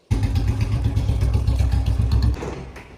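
A Royal Enfield Bullet motorcycle runs close by with a loud, steady low thumping beat that suddenly drops to a quieter rumble near the end.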